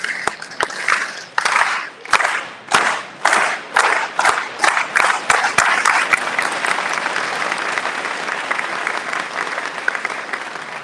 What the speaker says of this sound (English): Give me a slow clap, please.